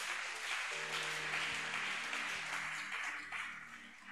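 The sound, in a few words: congregation applauding in church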